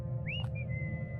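Eerie whistling, Willie's signature sound: a single short rising-then-falling whistled note followed by a thinner held tone, faint over a steady low hum.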